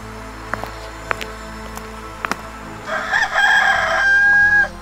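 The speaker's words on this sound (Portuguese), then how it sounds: "Ah, é só um galo aqui no teto." A rooster crows once, loud and close, a drawn-out cock-a-doodle-doo following a few faint clicks and taps in an otherwise quiet room.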